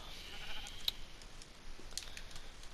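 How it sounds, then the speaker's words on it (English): Sheep bleating in the video game Minecraft, a few short faint calls over quiet clicking and background, with no speech. "I know I need sheep."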